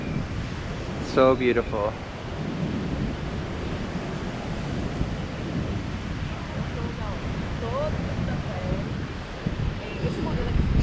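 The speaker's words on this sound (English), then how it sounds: "you just listen to the sound of the pounding surf and smell the fresh sea breeze" Steady broadband roar of surf pounding on Resende Beach in Itacaré, Bahia, Brazil, continuous throughout, with a person speaking briefly near the start.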